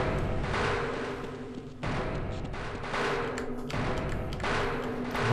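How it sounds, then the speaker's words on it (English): Grenade going off in the video game Half-Life: a series of dull, broadband thuds and bursts recurring every second or two over a steady, noisy game background, with no talk. "So let's chuck a grenade down there."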